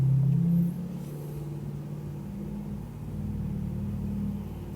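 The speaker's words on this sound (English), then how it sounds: "you hear a truck going by outside" A truck rumbles past outdoors, its low engine drone swelling near the start, then easing into a steady distant rumble that builds slightly again toward the end, heard from indoors with no talking.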